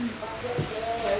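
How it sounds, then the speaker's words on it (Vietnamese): Heavy rain hisses steadily close by at night during a family memorial gathering, under soft voices. "Nãy giờ mưa quá trời luôn,"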